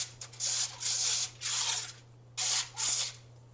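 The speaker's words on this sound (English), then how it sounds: "I'm just going to spray this non-stick avocado spray." Several short hissing bursts of a non-stick avocado oil cooking spray onto a pan, five pulses in quick succession with brief pauses between, close by over a faint low hum.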